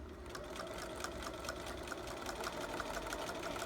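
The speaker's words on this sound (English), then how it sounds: "Just a regular stitch with my walking foot. I'm going to sew all the way down to the first corner." A sewing machine fitted with a walking foot runs a regular straight stitch along quilt binding, a steady close whirring hum that continues evenly without pause.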